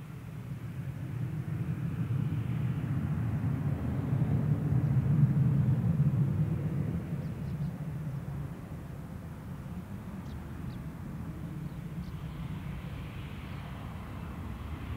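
AirAsia Indonesia airliner departing Perth Airport on runway 03, heard as a distant, steady jet rumble that swells and then slowly fades, fairly faint throughout.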